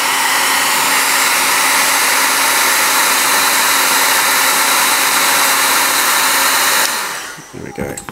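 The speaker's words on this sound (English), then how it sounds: "And just quickly knock that over with the hairdryer." A hair dryer blows steadily and loudly up close as it dries the painted base of a miniature. Its broad, constant roar runs for about seven seconds, then cuts off and winds down into faint clatter.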